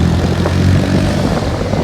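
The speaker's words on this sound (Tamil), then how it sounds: "எல்லோரும் எக்ஸாஸ்ட்டு போட்டு வந்ததுனால காதை கிழிக்கிது சவுண்டு." A Yamaha R1 and other motorcycles fitted with aftermarket exhausts, riding a hill road, produce a dense, continuous, loud engine roar that stays close and steady, with no talking.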